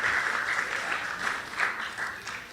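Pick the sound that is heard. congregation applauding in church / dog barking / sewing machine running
congregation applauding in church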